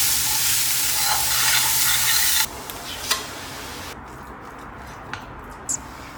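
Grated carrots with ginger-garlic paste sauté in a pan, then mashed potatoes go in. A loud, steady sizzle carries the first half, followed by quieter scraping and a few soft spoon knocks, with no voices.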